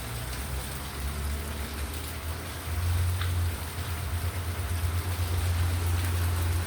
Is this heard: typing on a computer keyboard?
no